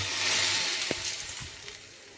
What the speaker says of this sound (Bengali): এই সময় আমরা ভিজিয়ে রাখা চালটা এর মধ্যে ঢেলে দেবো।